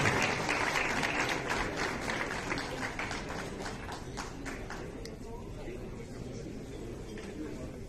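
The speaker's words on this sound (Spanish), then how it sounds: "Un fuerte aplauso, señoras y señores." Audience applause at a ceremony in Puebla certifying the trademark registration of Chile en Nogada; steady clapping from a crowd throughout, fairly distant and sustained, easing slightly toward the end.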